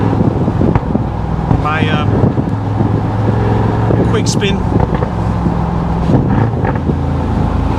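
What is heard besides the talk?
SUV aftermarket exhaust during drive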